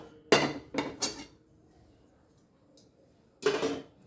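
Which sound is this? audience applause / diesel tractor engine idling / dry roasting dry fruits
dry roasting dry fruits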